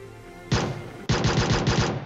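Video game gunfire from PUBG Mobile: one short burst of loud close shots, a brief pause, then a longer rapid run of several shots in quick rhythm, with no talk.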